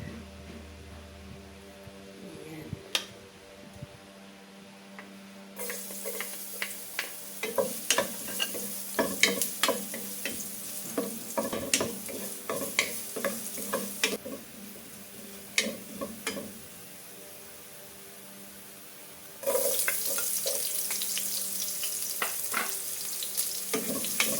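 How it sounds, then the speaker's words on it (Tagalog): Chopped onion and garlic sautéing in cooking oil in a pan, with a steady sizzle and repeated scraping and stirring clatters, the frying growing louder and brighter toward the end. "Inisa ko na po ang sibuyas at bawang."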